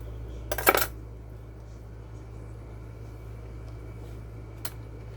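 A knife cuts through an avocado: one sharp, bright clatter near the start, then quiet with a faint steady hum and a second small click a few seconds later.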